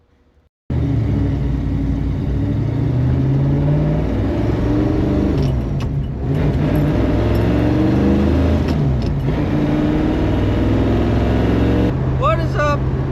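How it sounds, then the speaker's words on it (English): A Chevrolet C10 hot rod with an overheating problem drives along, its engine giving a loud, continuous low rumble from inside the cab that shifts in pitch as it accelerates, with someone talking over it. "I'm driving a hot rod to go get hot rod parts again"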